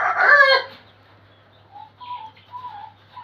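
On a poultry farm, a Tiger breed flock: one loud, close crow opens, then a few scattered soft clucks follow against a quiet background.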